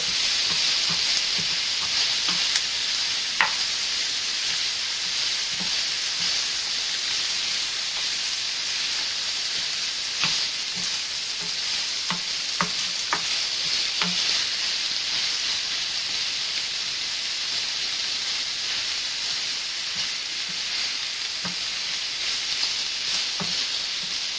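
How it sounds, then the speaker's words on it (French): Onion and garlic sizzle steadily in a hot pan for lasagne sauce, a constant bright frying hiss with occasional soft pops and stirring clicks, close and unbroken. "Là on voit déjà que l'oignon a commencé à prendre un peu de couleur, l'ail également."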